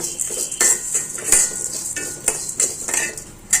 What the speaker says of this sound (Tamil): ஸ்டவ் ஆன் பண்ணி கடாயை வச்சிட்டோம் வந்து வறுத்துக்கலாம் நல்லா நல்லா வறுபடட்டும் பருப்பு